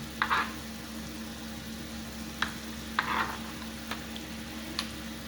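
Minced garlic fries gently in a pan, a faint steady sizzle under a low hum, broken by a few soft scrapes and clinks of a utensil stirring.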